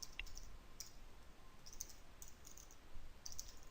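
Light clicks of a computer keyboard as code is typed, a few sparse keystrokes spread over a few seconds against a quiet background hiss.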